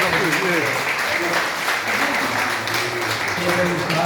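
A crowd claps steadily throughout while a person talks over the applause.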